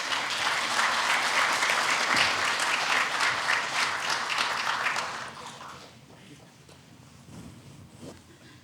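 Loud, dense audience applause at a Bible debate event welcomes a speaker to the stage, then fades out about halfway through, leaving quieter room noise with a little murmuring.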